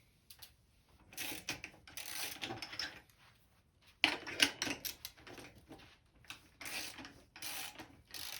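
A hand tool ratchets to loosen a BMX bike wheel, giving soft, close clicking runs in several short bursts with brief pauses between them.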